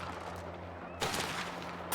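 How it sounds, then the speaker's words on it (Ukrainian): Gunfire in the video game Mafia The Old Country, a loud broadband shot bursting in at mid-clip with a sustained tail, preceded by lower game ambience and a second sharp onset at the very end. "Так, зараз він дві, два робить постріли."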